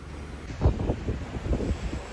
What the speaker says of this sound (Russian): Ветер такой дует.